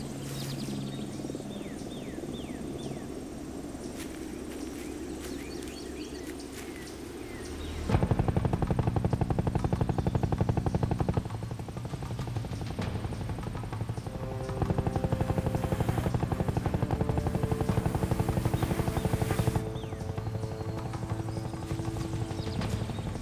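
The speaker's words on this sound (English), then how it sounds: "Helicopters." A helicopter's rotor thrums steadily at a distance, growing louder and fading in waves, with insects chirping in the background.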